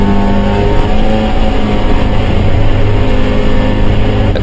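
Classic hatchback race cars lapping Donington Park National Circuit, a loud, continuous engine drone with steady humming tones as the cars pass at speed, with no break in the noise.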